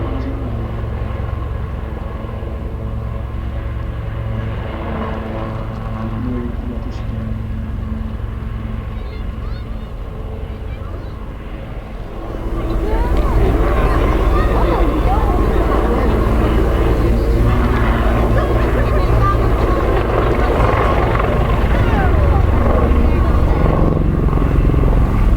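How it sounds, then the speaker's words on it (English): Aircraft engines drone steadily as a formation flies backwards at the Wales National Air Show 2016, the low rumble swelling louder midway and holding, with a commentator talking over it throughout. "this is the only formation of aircraft you will see today going backwards in formation"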